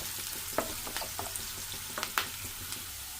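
Onions and green chillies frying in an oil-filled pan, with a steady close sizzle broken by several soft spoon stirs and scrapes.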